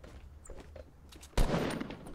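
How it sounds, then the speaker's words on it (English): Gunfire in a video game, a single sharp loud shot around the middle followed by a sustained noisy burst, over quieter game ambience. "Oh, someone shooting. That was me."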